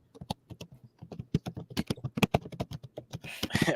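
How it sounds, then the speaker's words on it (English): Quick, uneven keystrokes rattle on a computer keyboard as someone enters figures into a spreadsheet, close and fairly quiet, ending in a brief burst of noise. "typing it in our spreadsheet himself"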